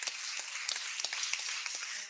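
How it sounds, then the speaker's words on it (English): A classroom audience at a summer career program claps for a student, a steady patter of many hands across the whole stretch with sharp individual claps standing out. "a round of applause for her."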